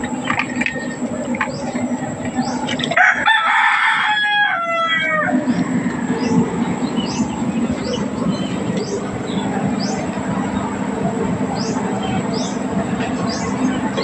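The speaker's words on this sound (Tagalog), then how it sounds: "Apa akong manok dito oh." A rooster crows nearby in the rural Philippines, a rising then wavering call, over a constant background of rural noise, with other birds chirping faintly afterward.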